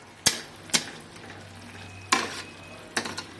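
Vegetable curry with fresh coriander leaves is stirred in a pan, giving four distinct scrapes and clacks of a utensil over a soft background hiss, close and fairly quiet.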